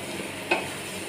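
Garlic fries in a pan with a steady, soft sizzle, and a brief stirring scrape cuts in about halfway through.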